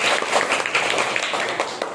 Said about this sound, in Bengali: ধন্যবাদ, তার জন্য হাততালি।